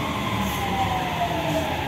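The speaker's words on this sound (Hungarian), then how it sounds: "Éppen beérkezik a szerelvény, mindjárt kiszállnak az utasok." A Budapest metro train pulls into Deák tér station with a steady rumbling roll and a high squealing brake tone gliding slowly downward, loud and continuous.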